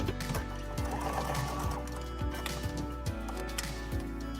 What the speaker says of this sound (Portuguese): Cheguei na minha marcação, viro e vou costurar aquele ângulo.